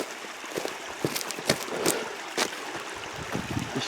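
A creek runs high with fresh snowmelt near an off-grid cabin, a continuous close rush of water broken by splashy, gurgling bursts as it tumbles over rocks.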